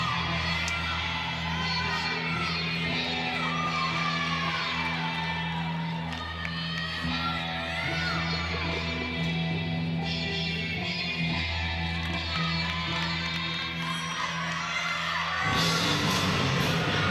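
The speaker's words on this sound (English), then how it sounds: "Already you're hearing the crowd get into it." At a college gymnastics meet between EMU and Ball State, the crowd cheers and whoops steadily through a floor routine, with the noise swelling near the end over the floor music.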